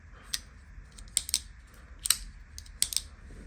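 A Demko AD 20.5 folding knife gets worked open and shut, giving sharp metallic clicks in small pairs and clusters, faint and close against a quiet background.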